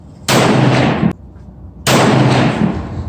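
A Browning AB3 rifle in .243 fires two loud, sharp shots about a second and a half apart outdoors, each with a short booming tail.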